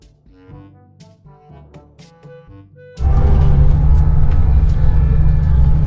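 A long-distance bus bound for Yerevan starts up partway through, its engine building into a loud, steady low rumble that continues to the end, following a quieter stretch of muffled interior sounds.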